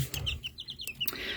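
Swedish flower hens give short, high clucks and chirpy calls close by in a coop, a quick run of soft notes with no voices.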